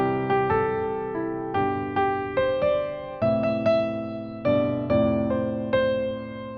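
Solo piano plays a melody over sustained chords in a steady rhythm, close and clear, each new chord struck with a fresh attack.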